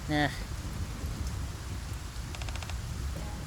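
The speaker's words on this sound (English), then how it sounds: "Just doing it again with the rain." Steady rain falls in the video game Nikke, a dense even hiss of drops across the whole stretch, with a brief electronic chime at the start and faint tones partway through.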